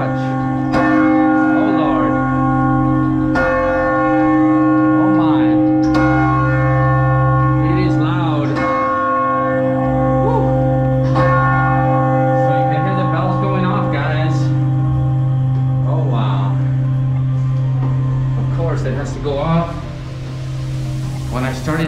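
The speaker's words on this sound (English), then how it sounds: "we're already up to where the bells ring." Church bells in the Torre dos Clérigos bell tower in Porto ring loud and close, with repeated struck tones and long overlapping hum. Chimes keep sounding for over twenty seconds.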